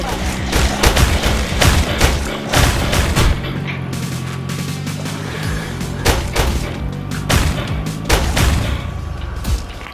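Rapid gunfire in the Roblox zombie game Build a Car to Kill Zombies, loud bursts of automatic shots and booming thuds repeating over a constant engine drone.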